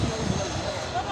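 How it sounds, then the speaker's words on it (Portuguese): A helicopter comes in over a flooded field, its steady broadband engine and rotor roar filling the brief moment at a moderate distance, with no one speaking. "está ali o outro helicóptero a vir."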